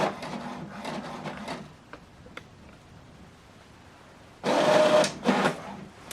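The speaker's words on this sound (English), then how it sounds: "So this document now is printing." An HP Deskjet 2820e printer printing a document, with a buzzing mechanical feed burst at the start, a quiet stretch with faint ticks, then a louder second pass of whirring print-head movement near the end.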